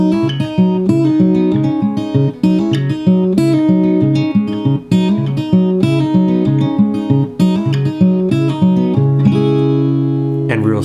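Fingerstyle acoustic guitar with a capo plays the looping intro riff of a song at full speed, a steady, rapid stream of plucked notes over a repeating bass pattern, loud and alone without talk.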